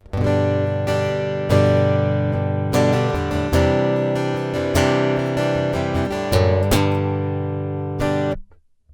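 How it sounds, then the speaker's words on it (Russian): Clean electric-acoustic guitar with piezo pickup played alone through a Yamaha THR30IIA amp with reverb and effects off, strummed chords and plucked notes ringing with a bright, dry tone, close and moderately loud. "Просто звучит пьезозвукосниматель."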